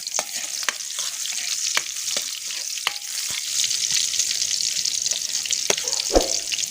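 Garlic and onion sautéing in hot oil in a pan for frog soup, a steady close sizzle with scattered sharp clicks and scrapes of a spoon stirring, and no talk.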